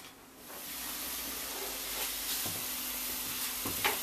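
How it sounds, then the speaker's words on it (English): Sausage browns in a pan over high heat, giving a steady, fairly quiet sizzle and hiss with a few faint clicks and scrapes of stirring. "Now when I'm browning up this sausage"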